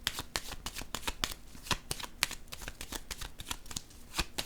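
Tarot cards handled and set down on a table, a dense run of sharp papery flicks and slaps repeating in quick irregular bursts, close and crisp with no voices.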